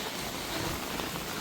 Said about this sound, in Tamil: மழை நேரம்